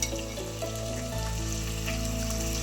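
Steady, close sizzle of potatoes frying in a pan as soaked, sprouted bitter val beans go in, with a brief clatter near the start and continuous crackle throughout.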